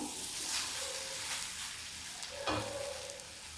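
Raw banana slices sizzle steadily as they fry in a pan, with a few scraping stirs cutting through the continuous crackle.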